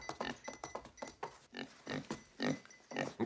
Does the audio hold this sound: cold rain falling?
no